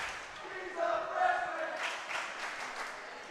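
Crowd noise from a high school volleyball match in a gym, Hannibal Pirates cheering section against QHS Blue Devils, a steady mid-level wash of cheering voices that swells around the middle and again later, mixed with faint talk.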